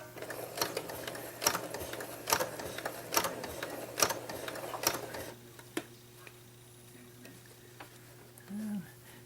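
A sewing machine stitching a fabric potholder, with rapid rhythmic needle clatter in close, evenly spaced bursts for several seconds before the stitching stops and only faint soft handling sounds remain.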